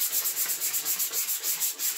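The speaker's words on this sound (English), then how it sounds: "We're just basically wanting to scuff it up and make it ready for the primer." Sandpaper scuffing a plastic part from a 1979 Trans Am in quick, even back-and-forth strokes, a close and steady raspy rhythm with no voices.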